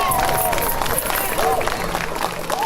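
Crowd applause and cheering at an outdoor ribbon-cutting block party on Vernon Road, steady dense clapping with babble and shouts mixed in throughout.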